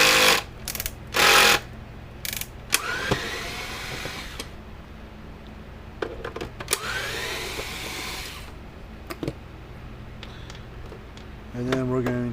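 Phillips screwdriver removing screws from a Gallagher S40 electric fence charger, with rising squeaky rasps of the screws turning out, scattered clicks and clatter of handling, and brief bursts of noise under a steady background hum.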